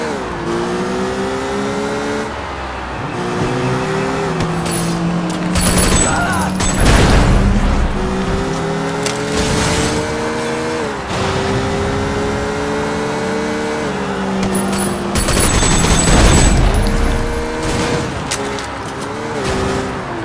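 Cars chase through the streets in Sleeping Dogs, with loud, steady engine drone and tire squeal, plus bursts of gunfire and crashes around the 7 and 16 second marks, all under a game music bed.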